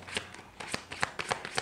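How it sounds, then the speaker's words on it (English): Tarot cards are shuffled by hand in a quiet room, a series of soft, quick riffling and flapping bursts repeating every few tenths of a second, close and faint. "Last shuffle for Cancer's professional career."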